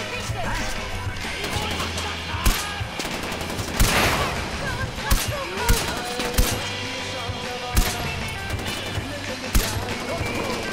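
Rifle fire in the shooter Far Cry 4 during an assault on an enemy fortress: sharp single shots crack out every second or so over a dense bed of game noise and music, close and punchy.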